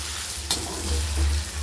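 Plantain pieces frying in oil and being stirred, a close, bright sizzle broken by a quick spatula scrape and low thumps from the pan.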